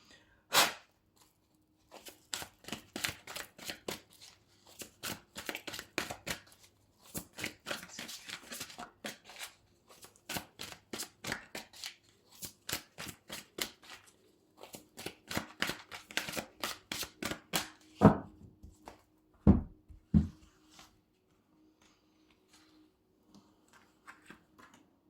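Tarot cards are shuffled in long runs of quick, dry snapping flicks, close and moderately loud, in rhythmic bursts with short pauses and a few sharper taps near the end.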